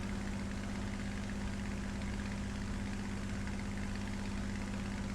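A propeller aircraft engine in War Thunder runs at low throttle, a steady, continuous low drone with a strong hum that holds even throughout, with no one talking.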